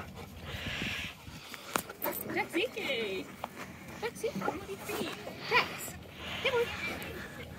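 Malamute or husky whimpering and giving short yips at an indoor soft play area, high thin whines rising and falling in bursts while people talk nearby.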